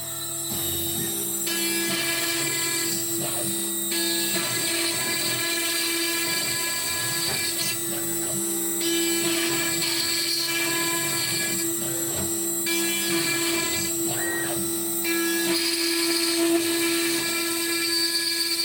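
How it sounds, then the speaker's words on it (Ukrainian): A water-cooled CNC spindle cuts wood with a constant high-pitched whine and a steady hum. The tone shifts slightly in repeating stretches as the cutter moves through the pass, with no voices. "Шпиндель працює, включаємо охолодження водяне і запускаємо"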